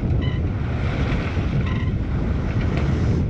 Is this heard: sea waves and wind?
yes